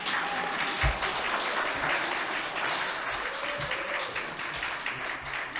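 Applause in council chambers after a unanimous vote, a steady, loud crowd clapping that carries on throughout, with a few sharper nearby claps and faint voices mixed in.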